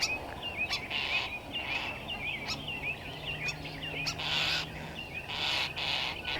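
Starlings chatter and chirp inside the roof of a garden pavilion, giving fairly faint, repeated warbling calls in quick uneven phrases over a steady outdoor background hiss.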